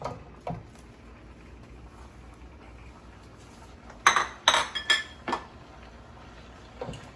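Clinks and knocks of bowls, dishes and cutlery being handled while pasta primavera is plated into a couple of bowls, a short cluster of sharp clatters midway, with sparse quieter taps before and after.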